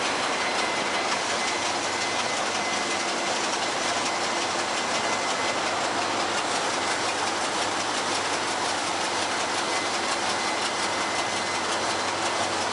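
A marine diesel engine runs in a ship's engine room, a dense, unbroken roar that holds steady and loud from start to finish with no voices.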